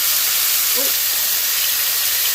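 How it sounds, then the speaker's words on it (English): Steady broadband hiss fills the clip, like food sizzling loudly in a hot pan, with no talking. "Do you guys hear the sizzle?"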